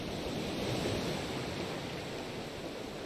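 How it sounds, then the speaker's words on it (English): Ocean waves in the survival game Raft make a steady, broad wash of surf noise, even and continuous with no breaks, heard alone with no talking. "Damn, that's just waves."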